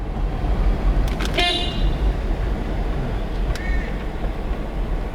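A short car horn toots amid steady road traffic noise, followed a couple of seconds later by a fainter second honk.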